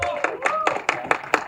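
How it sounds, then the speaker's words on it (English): Sharp, spaced claps ring out in a steady rhythm of about six strokes at a film team's media Q&A, with a voice and a sustained tone running faintly underneath. "Can we have a huge round of applause for Anil sir?"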